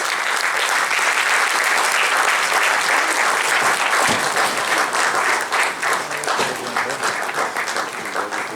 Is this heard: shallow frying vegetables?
no